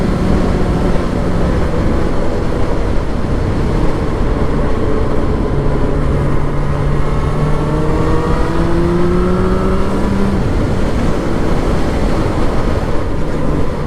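A Benda LFC700 motorcycle cruising on a straight road, its engine note rising and falling through gear changes under heavy, constant wind roar.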